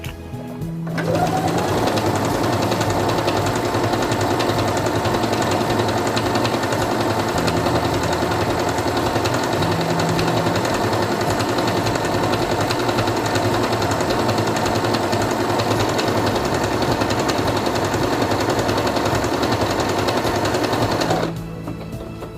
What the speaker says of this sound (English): Place it under the presser foot, lower it, and begin sewing.